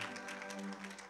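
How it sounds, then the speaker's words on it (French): Brief burst of audience applause at an awards ceremony in Côte d'Ivoire during a trophy presentation: dense, steady clapping that fills the whole moment over a faint tonal background. "Président, il faut applaudir très fort. Applaudez."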